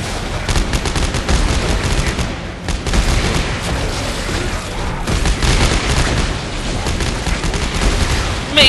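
An enemy in the Dead Space video game fires a continuous, loud barrage of gunshots and booms that runs dense and unbroken throughout, over faint voices.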